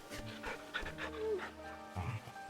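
Dog panting in Final Fantasy XVI, a quick rhythmic breathy huffing close by, under a steady low game score, with a voice briefly heard over it.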